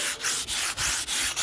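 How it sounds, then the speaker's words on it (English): Light hand sanding of a wooden table with a fine P240 pad, in five steady back-and-forth strokes with short pauses between, close and clear with no talking. "I'm just going to give the table a very light sanding with a P240 pad."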